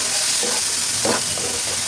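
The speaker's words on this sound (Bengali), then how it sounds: "এখন এই তো দিয়ে দিলাম টমেটো আর পেঁয়াজের পেস্ট।" Tomato and onion paste sizzling in hot oil with fried ginger-garlic paste for a Bengali tel koi fish curry, a steady close hiss with a few brief stirring bursts.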